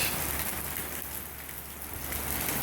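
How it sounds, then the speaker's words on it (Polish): Steady rain falls on a shelter roof near Hat Yai, Thailand, a dense even hiss of drops with a low rumble beneath, continuous and fairly soft, with no voices. "czekam aż przestanie padać"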